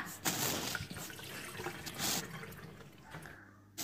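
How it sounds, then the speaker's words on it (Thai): Sticky rice is rinsed by hand in water in a kitchen, giving soft, continuous splashing and sloshing with bursts of pouring, fairly quiet and close, ending in a brief lull. "เราก็ล้างข้าวเหนียวสัก 3-4น้ำนะคะเพื่อให้ข้าวเหนียวของเราสะอาดค่ะ"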